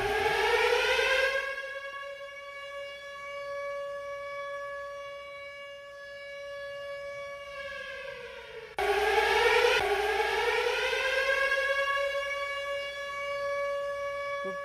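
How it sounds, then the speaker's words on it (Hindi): A civil defense siren sounding during a mock air-raid drill, a loud steady wail that sustains for several seconds, fades slightly, then restarts and rises again, with no talking. "तो पहले सायरन बजेगा"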